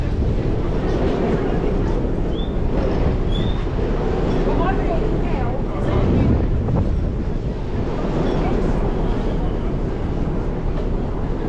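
Outdoor ambience at a UK train station: steady broadband rumble and hiss heavily buffeted by wind on the microphone, with faint distant sounds mixed in.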